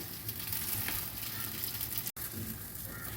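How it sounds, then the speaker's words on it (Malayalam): Kesari cooking in a pan with ghee, cardamom powder, cashews and raisins, giving a steady dense sizzle and scraping stir close up, with one abrupt break near the end and no talk. "ഏലക്കാപ്പൊടിയും ഉണ്ടിപ്പരിപ്പും കിസ്മിസും നെയ്യും എല്ലാം എല്ലാ സ്ഥലത്തും എത്തത്തക്ക രീതിയിൽ നല്ലവണ്ണം ഇളക്കി നമുക്ക് യോജിപ്പിച്ച് വാങ്ങാം"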